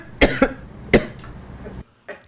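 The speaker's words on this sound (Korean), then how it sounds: "한 남성이 기침하자" A man coughs in a simulated university lecture room meeting, two close coughs followed by a third and a fainter one after a brief silence.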